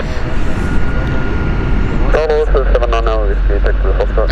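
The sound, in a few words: Boeing 747 aircraft engine at Zurich airport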